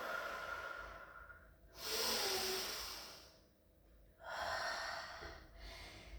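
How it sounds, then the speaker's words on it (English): During a low-impact cardio and abs workout, someone takes a slow, audible breath in and then breathes out in two long, soft, airy swells, heard close and fairly quiet. "Take a nice breath in. And out."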